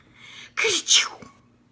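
A voice imitates a sneeze: a short breathy intake followed by a sharp, hissing burst, close and fairly loud, then quiet.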